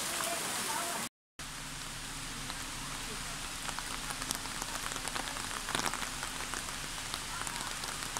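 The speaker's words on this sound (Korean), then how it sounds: "모간산에 비가 내립니다." Rain falling on Moganshan mountain, a steady, dense patter of drops on surfaces filling the whole clip, broken by one brief dropout near the start, with a faint low murmur underneath.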